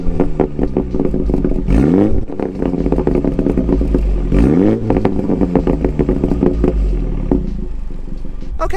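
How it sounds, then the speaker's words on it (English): Mini Cooper S exhaust popping and crackling, a continuous close engine drone broken by rapid irregular crackles and two rising rev surges, with no talking. "this car pops and crackles"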